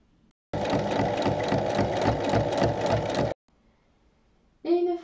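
A domestic sewing machine stitches the folded handles of a small fabric bag, running in one steady close burst of rapid mechanical whirring for about three seconds before stopping, followed by a brief quieter clatter.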